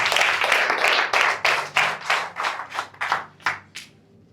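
A church congregation claps together in a lively burst of applause, dense at first and then thinning into separate, rhythmic hand claps that fade out within a few seconds.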